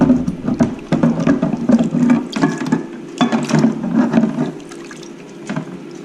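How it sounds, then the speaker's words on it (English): Cast iron pie iron being dipped and rinsed in a tub of white vinegar: repeated sloshing, splashing water with clanking metal scrapes in an uneven rhythm, close by, tapering off near the end. "Now I'm going to dip it back in the white vinegar and kind of rinse it off."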